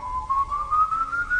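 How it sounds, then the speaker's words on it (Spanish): A single drawn-out whistle slowly rises in pitch over a quiet, low background, steady and fairly clear for just over a second. "Y entonces escuchó el silbido."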